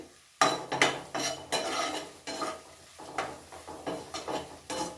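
Cashew masala with turmeric cooking in a pan, with a light sizzle under repeated scraping and clinking of a spoon against the metal pan in an uneven stirring rhythm, close and without talk.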